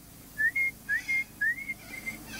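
A person whistles in imitation of a parrot: three rising, slurred two-part whistles, each sliding up and holding a steady note, spaced evenly and fairly close, with a fainter final phrase and no other sound.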